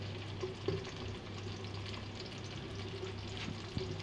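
Dal masala frying in a pan until light golden brown, giving a soft, continuous sizzle with occasional stirring clinks, close but fairly quiet, with no talk over it.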